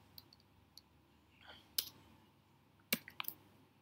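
A few faint, sharp computer mouse clicks sound in a quiet room, two of them crisper and more distinct, while a programmer runs test cases in Eclipse.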